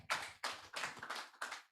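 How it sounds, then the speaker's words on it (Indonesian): Several bursts of hand clapping from a church congregation, irregular and fairly close, with short pauses between the groups of claps. "Tepuk tangan bagi Yesus dulu."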